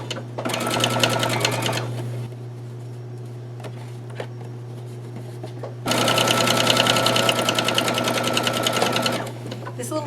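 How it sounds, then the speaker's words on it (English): Sewing machine stitching a folded end of a denim shop apron, rapid rhythmic needle chatter in two bursts over a low steady motor hum, close and loud. "I'm going to go ahead and sew that one for you now so you can see how that was done."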